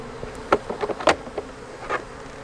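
Honeybees buzz close by around an open hive in a low steady drone, with individual insects zipping past the microphone in short louder swells.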